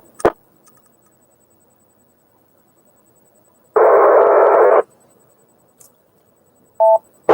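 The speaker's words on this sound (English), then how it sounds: "Almost sounds like an APRS burst." A single APRS data burst over an amateur radio net, about one second of dense buzzing digital tone in a quiet channel, with faint clicks and a brief short beep nearby.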